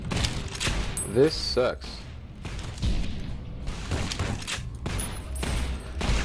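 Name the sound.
gunfire in the video game Fallout New Vegas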